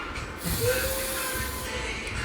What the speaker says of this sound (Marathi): स्प्रे मारू ऊपर से.